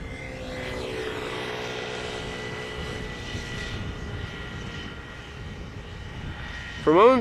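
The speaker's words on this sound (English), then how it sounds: "737-900 in the SkyTeam livery. This one is arriving from Rome, KLM flight 1602" A KLM Boeing 737-900 in SkyTeam livery, 23 years old, arriving from Rome gives a steady, broad jet roar with shifting whine across the whole stretch, holding level throughout, with a brief louder burst near the end.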